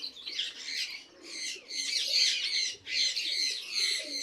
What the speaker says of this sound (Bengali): কবুতর আছে এখানে এই ঝাঁকে